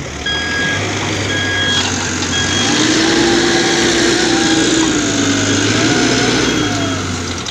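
A Swaraj tractor strains to climb out of deep mud while a CAT machine pushes it, with a loud, sustained engine roar rising and falling and a steady run of reversing beeps over it.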